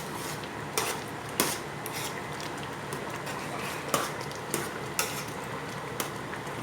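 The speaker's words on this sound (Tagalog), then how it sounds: "So, haluin lamang po natin ulit." Lugaw, a rice porridge, being stirred in a pot, with a steady soft scraping and sloshing broken by a few sharper knocks of the spoon against the pot, close by and moderately quiet.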